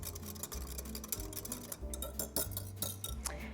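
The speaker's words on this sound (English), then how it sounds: "I'm just gonna whisk that together" A whisk taps and clicks rapidly against a bowl while mustard and red pepper flakes are mixed, giving quick, light rhythmic ticking over a low background hum.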